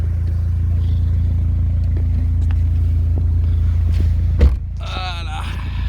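Track-prepared Opel Corsa idling and rolling at the start of a road test, a steady low engine drone with a brief clunk near the end and voices talking over it.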